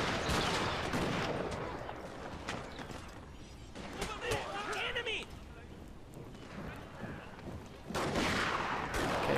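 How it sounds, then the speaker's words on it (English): Naval bombardment gunfire in the strategy game Shogun 2 Fall of the Samurai: dense, continuous rumbling volleys and crackling shots, loud and sustained, with someone talking over the battle noise. "I want to use my naval bombardment again."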